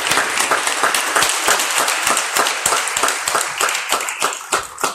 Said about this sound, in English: They give him a big round of applause.